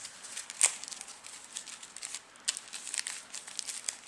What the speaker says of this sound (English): I guess I'll shuffle some here